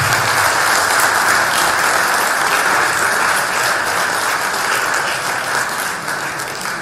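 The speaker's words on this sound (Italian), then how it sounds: "Fatevi un applauso per l'Università Cristo." Steady, loud applause from a gathered audience at a Sardinian cycling celebration, dense clapping sustained throughout and easing slightly toward the end.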